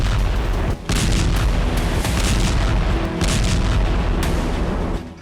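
Bombs falling and exploding across southern and eastern Lebanon during an Israeli bombardment, a dense roar of loud booming blasts and rumbling impacts that runs almost without pause, with a brief dip near the start.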